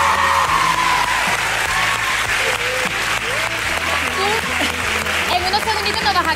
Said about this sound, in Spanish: Un fuerte aplauso para mi Antonio José